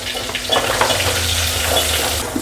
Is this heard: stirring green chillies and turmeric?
yes